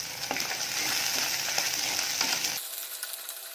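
Small onions sautéing in a pan with rock salt for a village-style dried fish curry, a close, steady sizzle broken by stirring scrapes and clinks that stops abruptly near the end, without any talking.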